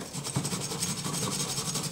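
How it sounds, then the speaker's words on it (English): A rough brush scraped by hand across a die-cast Dinky toy car during restoration, giving a close, steady rasping scrub with quick repeated strokes throughout. "I just take the brush and put it in my hand, and then I just scrape the car a little like by hand"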